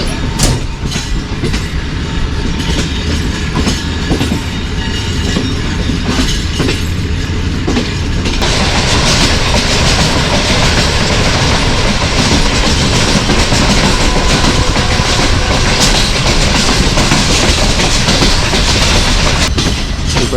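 A train rolls steadily along the rails with a rumbling clickety-clack, heard from inside an air-conditioned parlour car approaching Rawalpindi, loud and continuous, the noise brightening and growing harsher partway through.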